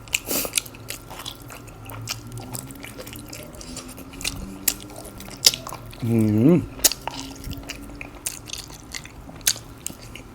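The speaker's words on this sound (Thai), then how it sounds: "มันเคี้ยวกรุบกรบเลยนะครับ" Close, wet chewing with crunchy bites of stewed beef tendon, steady and intimate, with a brief murmur partway through.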